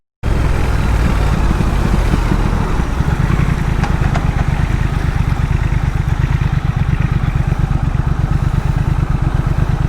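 A motorcycle engine idles steadily and smoothly, a continuous low rumble with fine rapid pulsing, loud and close throughout.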